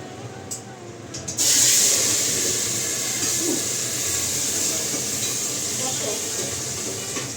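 Fish frying in a pan in a home kitchen: a sudden loud hiss bursts in as the fish hits the oil, then settles into a steady, close sizzle that continues without talk.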